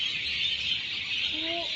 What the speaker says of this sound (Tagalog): Ayan, daming ibon guys.